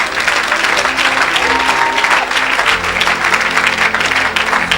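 A church congregation at an evangelistic meeting applauds and cheers for Jesus, a loud, dense, sustained wash of clapping with shouts mixed in throughout.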